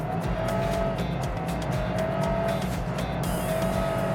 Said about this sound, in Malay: Changing gear dia tu yang membuatkan dia kuat.